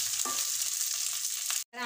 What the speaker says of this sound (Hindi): अब मैं डाल दूंगी इसमें मिर्च, इनको भी फ्राई कर लेंगे 2 मिनट तक